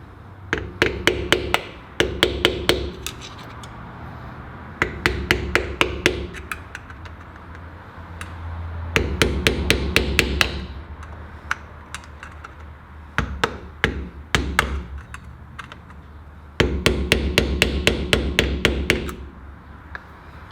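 A hammer strikes lock washer tabs on the front wheel hub of a Land Cruiser 80, in repeated bursts of quick, sharp metallic blows with short pauses between them, loud and close.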